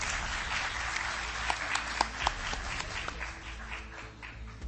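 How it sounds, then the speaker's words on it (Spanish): Audience applause at a ufology congress in Maipú, a steady wash of many hands clapping in a hall, moderately loud and sustained for several seconds with a few sharper individual claps standing out. "Un aplauso para él que está con nosotros también esta tarde."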